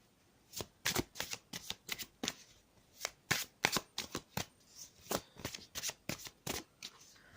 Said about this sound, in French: je vais tirer des cartes pour les blocages